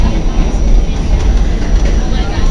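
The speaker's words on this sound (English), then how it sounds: "I'm on board on a R46 C Train" A New York City subway R46 car on the C line rumbles and rattles along the tracks, a loud, steady low roar heard from on board with no pause.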